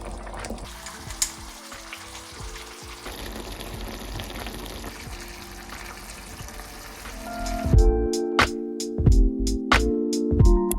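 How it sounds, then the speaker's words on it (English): Tomatoes and pasta sauce sizzle and bubble in a pot, with a steady close simmer that turns louder and more uneven toward the end, with no talking. "now I'm just gonna let this all cook and simmer together"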